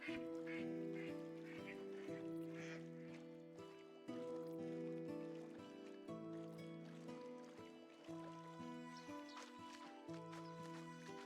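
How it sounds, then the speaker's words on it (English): In the Medieval Dynasty video game, ducks quack at a moderate distance through a layer of steady game music, with a few scattered calls and no talking. "Duckies!"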